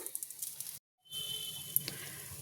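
Curry leaves and dry red chillies fry in hot oil for temple-style tamarind pulihora, giving a soft, steady sizzle with small crackles. It cuts out briefly, then returns as a quiet, continuous frying hiss.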